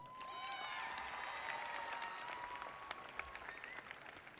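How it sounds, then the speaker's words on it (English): A graduating high school class applauds at their graduation ceremony, a broad continuous wash of clapping with some cheering and a few whistles rising above it. "Give yourself a big round of applause."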